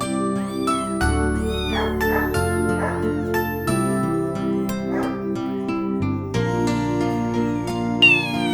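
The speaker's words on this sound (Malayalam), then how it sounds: "ഇതൊരു ബംഗാൾ ക്യാറ്റാണ്" A Bengal cat at a pet shop gives a run of repeated meows, close and fairly loud, one after another with short gaps, a dog yipping among them and a steady tonal hum underneath.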